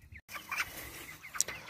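Chickens in a mobile coop, a week or two from butchering, clucking in short bursts at moderate distance, with a brief dropout near the start and scattered squawks over low ambient rumble.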